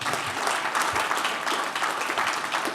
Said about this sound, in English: Please applaud for that